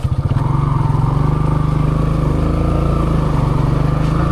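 Loud, close motorcycle engine running steadily on a trail, with a rough, throbbing idle-to-low-rev drone throughout, no speech.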